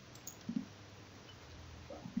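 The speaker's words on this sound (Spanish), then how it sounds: "clic derecho, Edit Simulation Command" A computer mouse gives a few faint, quiet clicks, two close together and then a pair about a second and a half later, over a low background hiss.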